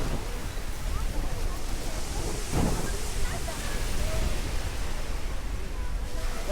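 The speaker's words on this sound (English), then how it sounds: "The waves are too strong." Strong surf rolling in on a beach at Dingalan, a steady broad wash of breaking waves with wind noise across the mic, loud and continuous, with people talking faintly nearby.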